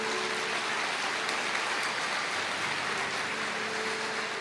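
Church congregation applauding during a sermon, a dense steady wash of clapping that fills the space evenly from start to end, loud and continuous with no voices rising above it.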